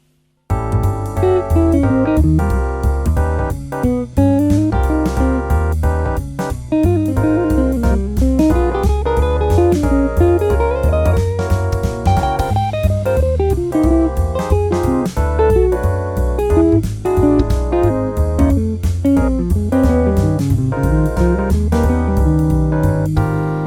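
A melodic jazz guitar solo, flowing single-note lines over a steady bass and rhythm accompaniment, loud and continuous with no talking.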